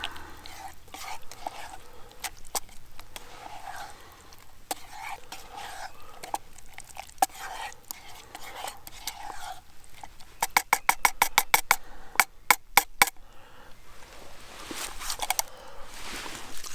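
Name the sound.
stirring food in a pot at a camp stove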